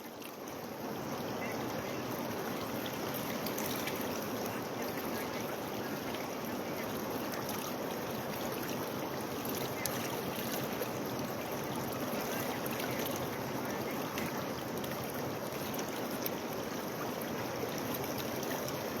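Swollen Chenab river near Salal Dam, a dense, constant roar of rushing floodwater that fills the whole stretch evenly without pause.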